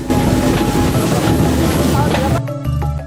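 A forest logging rail car (lori) runs along a track through teak forest in Blora, giving a loud, continuous rumble and clatter of wheels that cuts off abruptly, leaving faint ringing tones.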